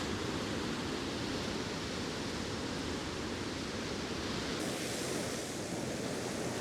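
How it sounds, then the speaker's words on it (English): A small waterfall on the River Tummel in full flow gives a steady, loud broadband rush of falling water that continues unbroken throughout, with no voices. "I'm really just focusing in on this small waterfall in front of me there"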